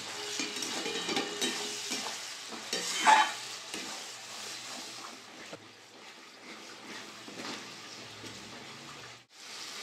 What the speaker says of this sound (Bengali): এবার ভালো করে মশলাটা কষিয়ে দেবো।